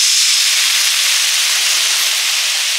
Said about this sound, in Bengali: লবণ, হলুদ, সর্ষে বাটা সহ জলটা দিয়ে দিচ্ছি